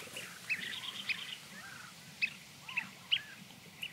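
Dunlins and sandpipers call along a shore with ducks nearby, giving several short, high chirps and peeps at irregular intervals over a soft, steady outdoor background.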